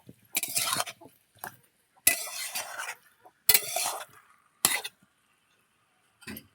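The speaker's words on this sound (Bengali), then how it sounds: "এখন এটাকে আমি 5 মিনিট কষিয়ে নেব।" A utensil stirs and sautés katla fish curry with potatoes in a pan, making four or five separate scraping, clinking bursts with quiet gaps between them, heard up close.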